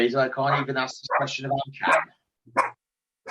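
A dog gives a couple of short barks under and between a man's steady conversation indoors.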